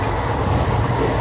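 The Shalimar–Vasco da Gama Amaravati Express passenger train runs along the track, heard from on board. A continuous loud, rumbling roll carries through the whole short stretch.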